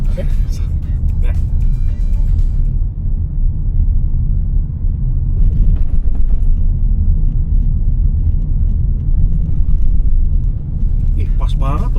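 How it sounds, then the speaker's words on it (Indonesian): An MG S5 EV driving at about 30 km/h over a harsh speed bump, heard from inside the cabin as a steady low rumble with a dull thump and jolt midway, while occupants talk at both ends. "seperti apa mobil ini ketika melibas speed breaker yang tajam-tajam ya"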